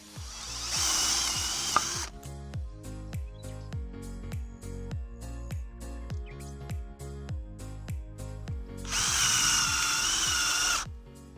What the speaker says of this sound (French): Je vais tester maintenant de la perceuse tout simplement. Donc j'ai installé le forêt à bois de 6 mm.